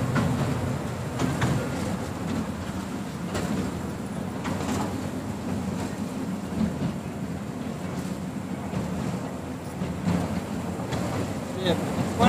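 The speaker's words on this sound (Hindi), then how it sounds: "रेलगाड़ी चल चुकी ये अपन चल रहे हैं" A passenger train moves along the tracks near Bhopal, heard from on board as a steady, continuous low rumble with occasional faint knocks and muffled background voices.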